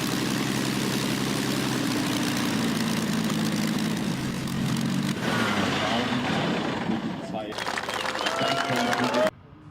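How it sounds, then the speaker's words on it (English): A homemade biplane with two stacked wings drones past overhead, its propeller engine a steady buzzing roar that shifts in pitch midway and cuts off abruptly near the end, with a voice talking over it. "This aircraft from another era crosses the sky with rare grace."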